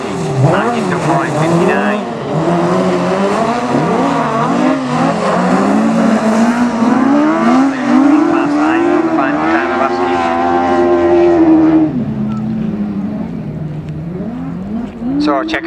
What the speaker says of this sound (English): Carl Moseley just slows it down and keeps it under full control as he comes round here